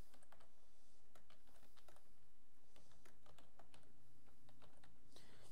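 Ctrl Shift F12 pressed on a computer keyboard while working in MS Office Word 2007, heard as a steady run of close, crisp key clicks and taps over a faint background hum, with no talking.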